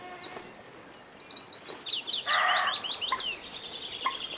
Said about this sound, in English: the sheer complexity and the quality of the song that I really like